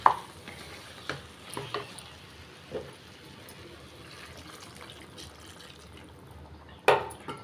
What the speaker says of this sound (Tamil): இப்போ முருங்கைக்காய் வேகிற அளவுக்கு தண்ணி சேர்த்துக்கலாங்க.